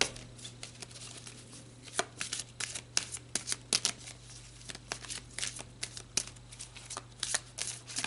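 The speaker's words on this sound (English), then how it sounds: "So let's pull some more cards" Tarot cards are shuffled in repeated quick riffling bursts and slaps, fairly close and clear, with a steady low hum underneath and no talking.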